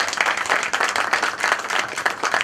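A round of applause at a KTM press conference, dense clapping from the assembled room, loud and continuous with no voices over it.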